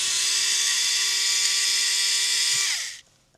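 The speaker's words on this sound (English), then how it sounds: "There's 4 screws in the cover. And we'll take those out." A power hex driver whirs steadily at close range while backing out the cover screws on an Axial Capra RC crawler, holding one high pitch for nearly three seconds before winding down and stopping.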